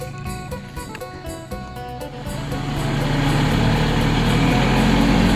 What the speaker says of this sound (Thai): รถไถมาล่ะบัดนี้